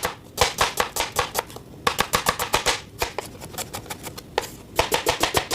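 Onions being finely sliced with a knife on a board for chana dal: rapid, crisp chopping strokes in quick bursts with short pauses between them, close and clear, with no talking.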